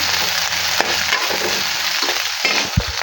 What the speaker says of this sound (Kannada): ಬೆಳ್ಳುಳ್ಳಿ ಸ್ವಲ್ಪ ಫ್ರೈ ಮಾಡಬೇಕು ಕಡ್ಬೇವಿನ ಸೊಪ್ಪು ಹಸಿಮೆಣಸಿನ್ಕಾಯಿ ಹಾಕೊಂಡಿದ್ದೀನಿ ಸ್ವಲ್ಪ ಅದು ಫ್ರೈ ಆಗಬೇಕು